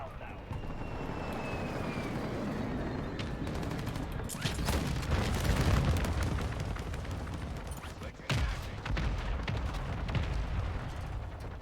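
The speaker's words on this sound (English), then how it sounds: "Mortar strike inbound now." Mortar strike explosions in a Call of Duty match, heavy booming blasts layered over sustained battlefield rumble and aircraft drone, loud and dense throughout with sharper impacts in the middle.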